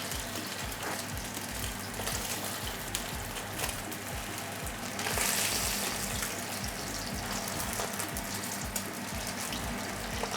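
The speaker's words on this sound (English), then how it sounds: "you want to brown it as fast as possible to minimize the cooking" Rubia Gallega aged beef sears hard in a hot pan for tataki, with a steady, loud sizzle and crackle throughout and a brief louder burst of spitting fat midway.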